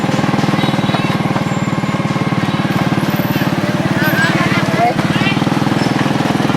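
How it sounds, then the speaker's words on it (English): Steady, close engine drone of a tuk-tuk ride through motorcycle traffic in an Asian city with no traffic lights, a continuous rhythmic putter under faint scattered street noise. "Now we're in the motorcycle traffic again"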